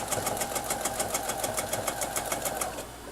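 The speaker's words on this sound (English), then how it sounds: "So the first thing I'm going to do is just some straight stitching." A domestic sewing machine fitted with a ruler foot runs straight quilting stitches on a small quilt piece, giving a fast, even mechanical chatter close by with no talking.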